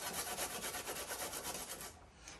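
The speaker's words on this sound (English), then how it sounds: "I'm going to first grate my, I've peeled my ginger." Peeled ginger is rubbed against the small side of a grater, a close, steady rasping scrape in quick regular strokes that stops near the end, with no talking.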